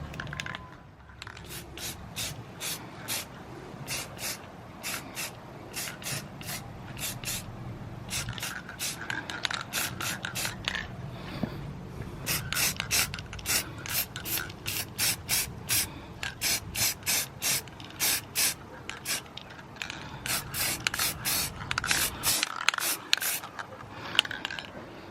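Black spray paint goes over primer on a fabricated tucked car battery tray from a can. Dozens of short hissing bursts repeat in a steady rhythm, with brief pauses and faint rattling between them.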